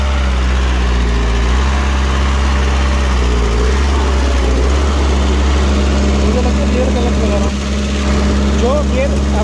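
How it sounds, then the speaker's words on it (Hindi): A VST Shakti 927 four-cylinder tractor engine runs steadily at close range with a deep, constant rumble and droning harmonics, holding an even loudness throughout. "4 सिलेंडर के इंजन के साथ में है ये।"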